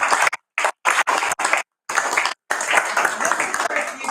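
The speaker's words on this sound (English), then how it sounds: "I think you deserve a round of applause" Applause at a city council meeting comes in short bursts broken by abrupt silences, then settles into steadier clapping near the microphone, loud and close.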